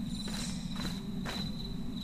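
Crickets in the video game Hunted: One Step Too Far, a steady high-pitched chirping drone under a low hum, with soft footsteps crunching in a slow rhythm, no talk.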